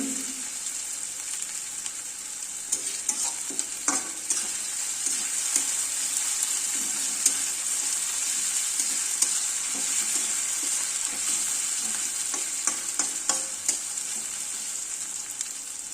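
Ginger garlic paste frying with onions in a pan over low heat, a steady bright sizzle throughout with scattered spatula scrapes and stirring clicks, close and fairly loud.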